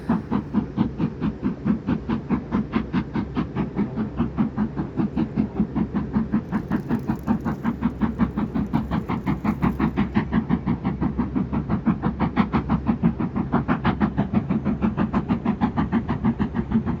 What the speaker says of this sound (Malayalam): ഈ ട്രെയിൻ മലകൾക്കിടയിലൂടെ ആ പാലത്തിലൂടെ വരുന്നത് കാണാൻ നല്ല ഭംഗി തന്നെയാണ്